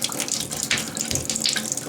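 Water runs steadily from a Delta Monitor tub and shower faucet, a close, continuous splashing hiss with slight fluctuations and no talk.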